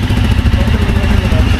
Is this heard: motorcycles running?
yes